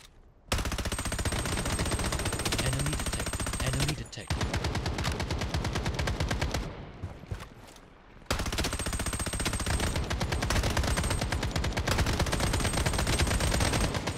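Rapid automatic gunfire from the mobile first-person shooter Project Bloodstrike, long loud bursts that break off briefly around the middle and then resume at full intensity.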